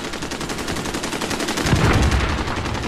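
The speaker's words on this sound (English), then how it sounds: "I freaking love this shotgun." A shotgun fires in Modern Warfare multiplayer, with dense, rapid blasts in close succession under continuous battle noise, loud and near, with no talking.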